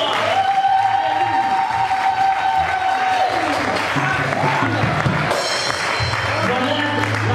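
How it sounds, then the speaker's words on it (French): Church congregation applauding at a service, with steady sustained clapping and crowd noise throughout, a sung or spoken tone partly audible over it near the start. "qu'on peut les acclamer encore"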